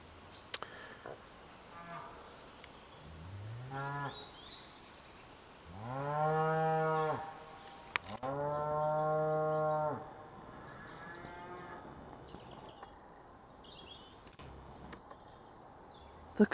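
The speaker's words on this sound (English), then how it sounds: "The cows are calling to one another." Several cows moo back and forth on a farm near a stone circle, deep drawn-out calls in two or three main bouts, moderately close, with faint birdsong and outdoor ambience in between.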